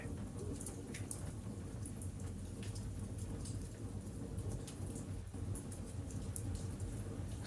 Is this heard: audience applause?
no